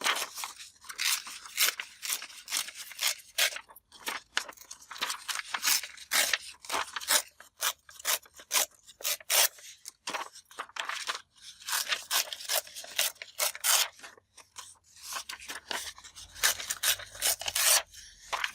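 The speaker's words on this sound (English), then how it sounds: "I love tearing paper." Paper torn by hand for handmade Christmas journal tags, a long series of short crisp ripping bursts in an irregular rhythm, close and fairly loud, with brief pauses between tears.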